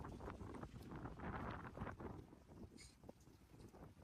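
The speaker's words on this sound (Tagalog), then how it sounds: "Grabe, nalakas ng hangin." Strong gusting wind blowing outdoors in a small town, buffeting the microphone with loud rushing swells that ease slightly toward the end, with no one talking.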